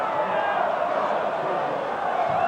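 Football crowd at an Orient match, a steady roar of cheering voices filling the stand, sustained and even throughout.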